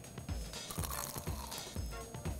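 Someone bites into a dessert with caramelized pear and maple syrup, giving close, moist crunching and squishing chews in a rapid, irregular series with no talking.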